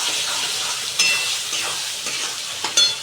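Steady sizzle and hiss of sabzi frying in a pan as red chilli and Kashmiri chilli powder are stirred in, with a couple of brief scrapes of the spoon against the pan, no voices.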